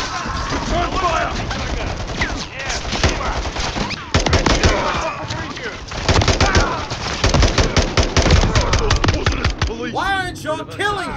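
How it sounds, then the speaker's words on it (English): Heavy gunfire in a video game, dense rapid automatic bursts and single shots packed close together, loud and continuous, with shouted voices mixed in. "Contact! Return fire!"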